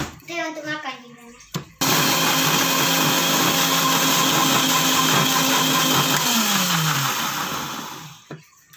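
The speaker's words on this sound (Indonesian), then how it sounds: "Jadi kita blender dulu cairan." Brief voices, then a blender blending liquid starts with a sudden loud whir and runs steadily for several seconds, its motor pitch dipping once before it stops.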